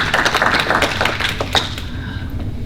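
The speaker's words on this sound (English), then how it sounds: "Another round of applause." An audience at a public university meeting gives a round of applause, a loud close patter of many hands that thins into scattered claps and fades out.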